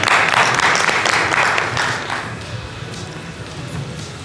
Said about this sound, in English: Let's give Jaya a big round of applause.